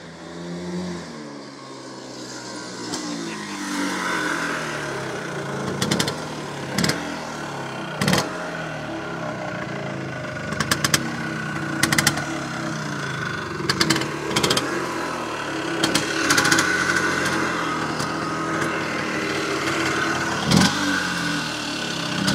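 A Rokon 340 automatic two-stroke motorbike engine revs close by, running steadily with repeated sharp throttle blips and surges over a continuous mid-pitched drone.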